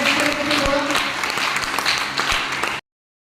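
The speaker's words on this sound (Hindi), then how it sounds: "एक जोरदार ताली बजा के सब लोग प्रिपेयर हो जाए।" Applause from a seated audience at a meeting fills the room as a dense, loud wash of clapping that cuts off abruptly.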